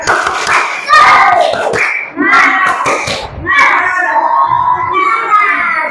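Classroom children clap and shout a 'tepuk semangat' chant together, loud bursts of rhythmic group clapping mixed with children's voices, several short pauses breaking the chant into phrases.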